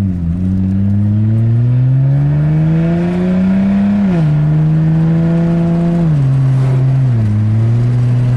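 A repaired Mazda 6 wagon with a stuck-in-third transmission fixed accelerates hard, its engine droning loudly and rising in pitch through the gears with clear drops at each shift, heard up close with no talking.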